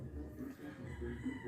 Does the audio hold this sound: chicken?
yes